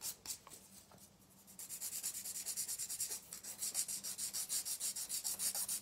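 A nail file rubs across a natural fingernail in quick, even back-and-forth strokes, soft and close, pausing briefly before a steady rhythmic run of rasping passes.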